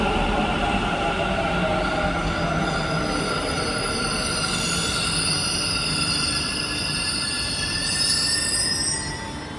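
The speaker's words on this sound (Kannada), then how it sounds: "ನೆಕ್ಸ್ಟ್ ಮೆಟ್ರೋ ಬರ" A metro train arriving at a station rumbles loudly nearby, its steady roar accompanied by high metallic wheel squeals that rise and fade near the end.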